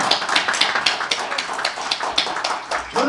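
An audience at a Korean education forum and debate claps in a brisk, scattered patter for about three seconds, and a voice starts right at the end.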